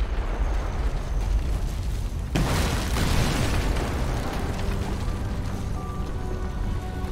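Propane tanks blow up in a video game with a sudden loud blast a third of the way in, then a rough, rumbling roar that lingers over a steady background hiss.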